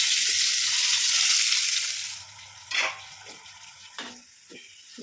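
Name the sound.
frying boiled pieces slowly in a pan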